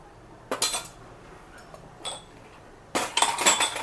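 A utensil clinks and scrapes against a bowl while chicken is mixed with ginger-garlic paste, chili powder and cornflour. There are three separate bursts of scraping, and the last one is the longest and busiest. No one speaks.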